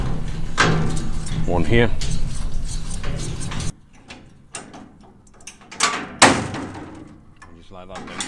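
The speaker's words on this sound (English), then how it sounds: "all we do is we undo these brackets" Metal brackets on a motorcycle trailer ramp are undone with clanks and rattles, loud and close, then a pause and further sharp metallic knocks, with someone speaking briefly in between.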